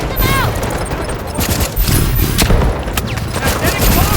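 Gunfire in the video game Delta Force Hawk Ops, loud rapid bursts of automatic fire and thumping blasts crowding together, with shouted voices mixed in.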